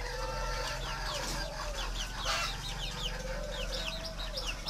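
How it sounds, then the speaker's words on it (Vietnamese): Young farmed birds in a pit-style nesting pen, old enough to peck at grain, give a constant chorus of overlapping chirps and clucks close by, with no talk. "Lứa chim này là lứa chim xuống ổ biết mổ lúa rồi."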